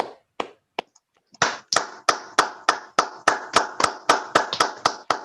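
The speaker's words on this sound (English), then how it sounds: "Big round of applause." Close, crisp hand claps from a single nearby person applauding at a webinar: a few sparse claps, then a steady run of about a dozen evenly spaced sharp claps.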